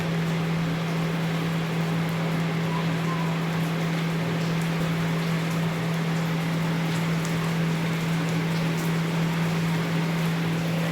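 Torrential rain falls in Rajkot, a steady dense patter with a constant low hum underneath, even and unbroken throughout.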